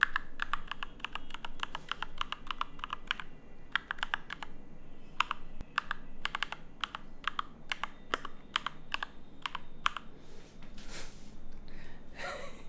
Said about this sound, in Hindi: this is my keyboard